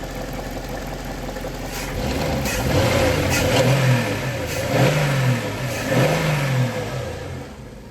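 A car engine idles low, then revs up three times in short bursts, each rise in pitch falling back to a steady idle.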